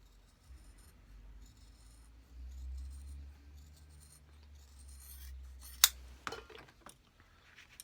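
Leather or shoe material being cut during a Christian Louboutin shoe restoration: quiet, close scraping and rubbing strokes with a sharp snip or click and a few small taps, faint and sparse, with no talking.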